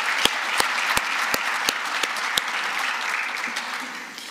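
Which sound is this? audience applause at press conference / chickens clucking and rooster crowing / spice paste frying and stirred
audience applause at press conference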